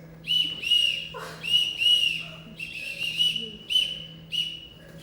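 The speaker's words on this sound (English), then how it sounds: "whistle for us" A person whistles a repeated bright tune in short phrases, clear and fairly close, with a low steady hum underneath.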